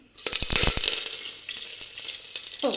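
Whole spices (cinnamon, cloves, cardamom and bay leaf) dropped into hot oil for green tomato bath, bursting into a loud crackling sizzle that settles into steady frying with scattered pops.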